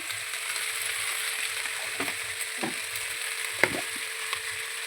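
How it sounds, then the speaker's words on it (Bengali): Spice paste of ground ginger, chili, cumin and chopped tomato fries in a pan for duck egg curry, a soft continuous sizzle broken by a few faint spatula scrapes. "দিয়ে ভালো করে মশলাটা কষিয়ে নেব।"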